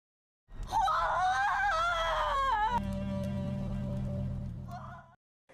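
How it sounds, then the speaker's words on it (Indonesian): A king and queen scream hysterically in loud, sustained, wavering shrieks: a high, quivering cry first, then a lower, steadier wail, lasting several seconds before stopping abruptly. "Sang raja dan permaisuri teriak histeris melihatnya."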